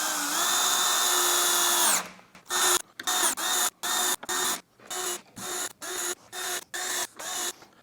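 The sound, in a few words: power drill tightening 1.5 inch screws in cabinet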